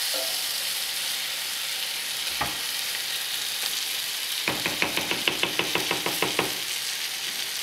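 Pasta alla Genovese frying in a small pot over high heat gives a constant sizzle. One sharp knock comes early, then a quick run of rhythmic spoon knocks and scrapes against the pot as it is stirred.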